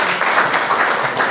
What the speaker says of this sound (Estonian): Aplaus Ulvile.